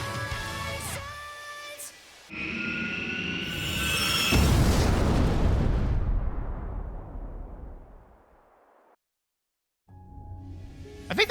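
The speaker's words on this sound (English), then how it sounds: "think that explosion would have killed most anybody directly beneath it." A large explosion in the video game Sonic Frontiers rumbles out as a loud, sustained boom that swells and slowly fades into a hiss before cutting to silence, with game music and effects around it.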